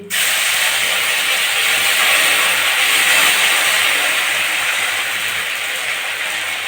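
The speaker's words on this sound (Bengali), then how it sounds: "আর দুটো শুকনো লঙ্কা আমি একটু আদা বাটা তেলের উপর দিয়ে দিচ্ছি" Ginger paste and dried red chillies hit hot oil with a steady, loud, close hiss that starts abruptly and holds evenly with no talk.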